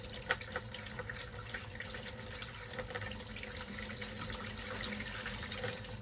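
Antifreeze pours down a camper sink drain in a steady, gurgling, splashy wash of liquid that runs continuously at moderate loudness, with no voices.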